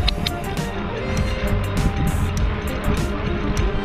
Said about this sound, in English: You guys can probably hear my tires like super swampers because I have a mountain bike that has aggressive wheels on it